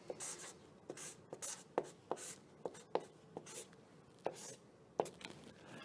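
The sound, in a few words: writing on a board while solving a math problem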